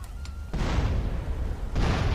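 Grenades explode in GTA San Andreas, two loud, sharp booms about a second apart, each followed by a rumbling roar that lingers.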